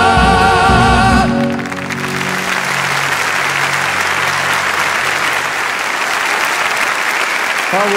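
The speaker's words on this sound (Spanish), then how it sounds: "Ese aplauso que se oiga." A concert audience at the Auditorio Alfredo Kraus bursts into loud, sustained applause right after a song ends, and the clapping continues steadily to the end.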